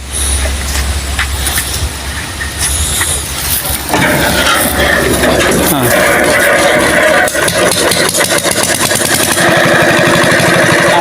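A rice threshing machine's engine, rope-started in a riverside char village, catches and runs loud and close with a steady rapid chug over the last several seconds, after a stretch of pulling and handling noise with people talking nearby.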